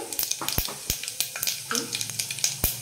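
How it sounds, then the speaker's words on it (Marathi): Mustard seeds splutter in hot oil in a home kitchen pan, giving sharp, irregular pops and crackles over a soft sizzle, close and fairly loud. "राई तडतडली की त्यात जिरं घालायचे 1 चमचा"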